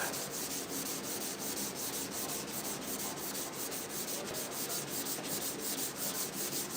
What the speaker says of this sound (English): Doing a little bit of sanding, a little bit of dry sanding